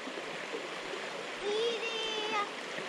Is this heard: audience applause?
no